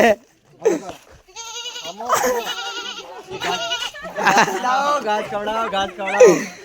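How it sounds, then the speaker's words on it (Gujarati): A goat bleats several times in wavering, nasal cries, close by, mixed with people talking and calling out around it. "અમારા ગ્રુપ ની બકરી"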